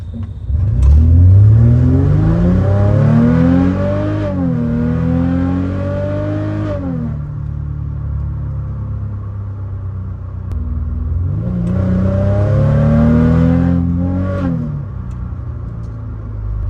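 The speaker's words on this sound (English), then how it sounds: "the exhaust tone in the cabin is a lot more deeper" A Mercedes C300 4Matic engine revs up twice with a deep exhaust rumble, settling to a low idle drone between the surges, heard from the cabin.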